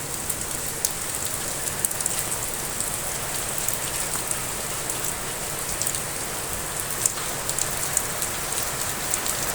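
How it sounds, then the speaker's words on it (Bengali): Heavy rain pours down steadily, a dense close hiss of drops on surfaces with scattered sharper patters of individual drops, unbroken and alone for the whole stretch. "কি পরিমাণ বৃষ্টি আছে দেখুন আমার ক্যামেরার লেন্সে"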